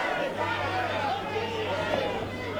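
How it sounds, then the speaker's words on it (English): A fight crowd roars and chants a fighter's name, a steady dense wall of voices throughout with a commentator talking over it. "The crowd chanting his name."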